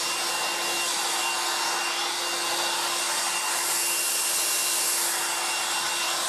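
A 1980s Black & Decker SW105 Stowaway 1000 travel hairdryer runs steadily with its air concentrator nozzle fitted, giving a loud, unbroken rushing hiss with a constant motor whine underneath.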